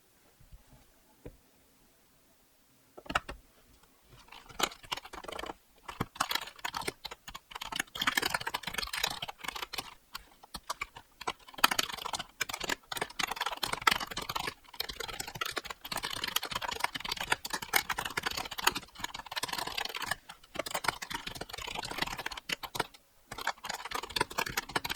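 Typing on a computer keyboard during a home writing session: quick irregular bursts of key clicks near the microphone after a quiet start, with brief pauses, no speech.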